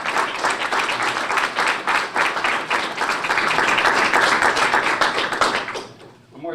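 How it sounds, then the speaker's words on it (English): Audience applause at a breakfast event for a school superintendent, a dense, loud burst of clapping that swells and then fades out near the end. "Always cautious about the applause up front"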